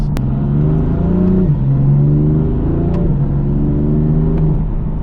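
BMW M4 engine accelerating through gears in its M1 driving mode, heard from inside the cabin as a loud, steady drone rising in pitch, briefly dropping at each shift, then climbing again.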